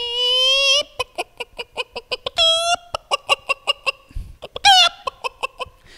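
Chickens cluck in quick, rhythmic bursts, broken by a few drawn-out squawking calls, close and clear against a quiet background.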